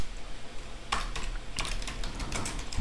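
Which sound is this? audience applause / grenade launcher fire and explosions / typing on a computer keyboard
typing on a computer keyboard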